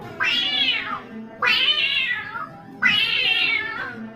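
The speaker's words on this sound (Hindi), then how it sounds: "बिल्ली का आवाज सुनाई दिया।" A cat meows three times in a slow, even rhythm, each call a clear rising-then-falling wail, close and moderately loud with quiet pauses between.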